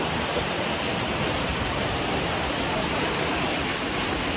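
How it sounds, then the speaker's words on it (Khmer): Steady rain falls in a dense, even hiss of drops on surfaces, loud and constant with no pauses and no voices. "ចូលភ្លៀងលើកទី2"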